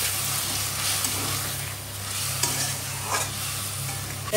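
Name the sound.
water added and stirred into sizzling paneer posto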